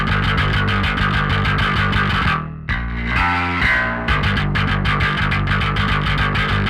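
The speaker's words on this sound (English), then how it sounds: "the Mammoth plugin from Aurora DSP, which is a wonderful plugin for distorting the bass" Bass heavily distorted through an Aurora DSP Mammoth plugin preset for metal, playing a chugging, rhythmic riff with a brief pause and sustained notes in the middle, loud, gritty and saturated, with no voices.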